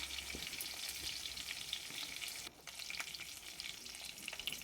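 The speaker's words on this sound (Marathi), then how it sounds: "अद्रक कुटलेलं कढीपत्ता टाकून घेते हळद टाकायची" Crushed ginger and curry leaves fry in hot oil with a steady, fairly faint crackling sizzle that barely lets up, punctuated by small pops and a brief dip partway through.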